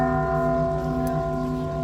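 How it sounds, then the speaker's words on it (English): Large church bell in the small mountain town of Mascota, swung by a pulled rope, ringing as a sustained, resonant metallic tone with a steady hum of overtones throughout, fairly loud and close. "Big church bell. They pull a rope to make that thing happen."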